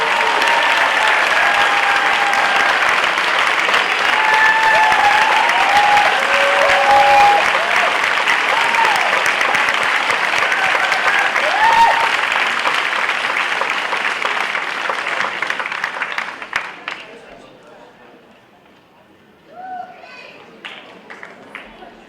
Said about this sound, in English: How about one more round of applause for all those service plan awardees?